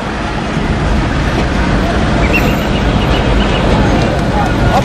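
Chaotic traffic crowds the ferry crossing in Mombasa: a dense, continuous roar of vehicles and engines with busy background commotion, loud and close, and voices mixed in.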